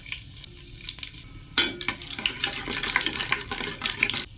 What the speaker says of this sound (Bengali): তেল গরম হয়ে গেছে, দিয়ে দেবো গোটা জিরে, শুকনো লঙ্কা ও তেজপাতা।